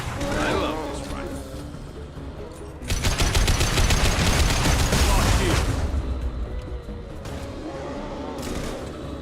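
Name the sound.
gunfire in video game Mass Effect 2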